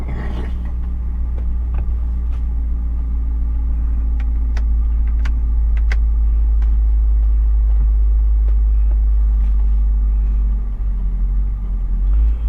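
A 2000 BMW E39 M5 engine idles steadily while warming up, a deep, even rumble held close and constant for the whole stretch with only small mechanical ticks over it.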